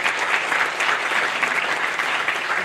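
A parliamentary audience at a Constitutional Court anniversary gathering applauds steadily, a dense, even wash of clapping from many hands that holds throughout.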